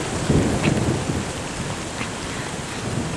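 Steady heavy rain hisses throughout, with a low rumble of thunder early on and no voices.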